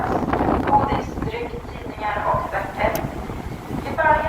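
Strong wind buffets the microphone on a ferry deck leaving Visby, Gotland, a steady rushing roar with the low rumble of the boat, while a voice talks faintly underneath.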